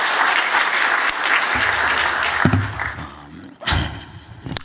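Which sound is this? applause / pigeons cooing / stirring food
applause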